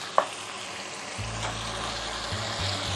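Kaleji (liver) frying in a pan after about five to six minutes of cooking, giving a steady low sizzle with a brief stir or clatter near the start. No one speaks.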